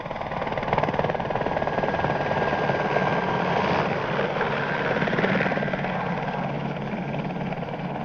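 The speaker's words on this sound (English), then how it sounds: "That chopper must have come from the direction of their base." A helicopter passes overhead, its rotor chop loud and steady throughout, swelling slightly midway before easing off.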